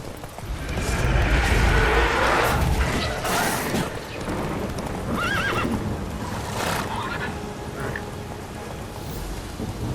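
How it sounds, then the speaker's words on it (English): A horse gallops in The Witcher 3 video game, its hoofbeats clip-clopping steadily under whinnies and a rain-like wash. A voice speaks over the continuous, fairly loud game soundscape. "Run, Roach."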